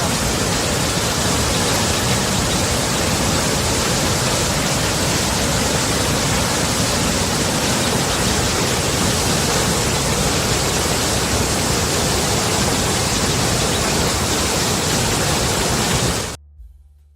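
A waterfall sound effect plays on a livestream: a dense, loud, unbroken rush of falling water that runs steadily for about sixteen seconds and then cuts off abruptly into silence.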